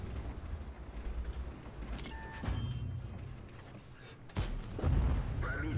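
Tank cannon fire in the World of Tanks video game, from an Object 274a, with a couple of booming shots over a constant low engine rumble and mechanical game noise.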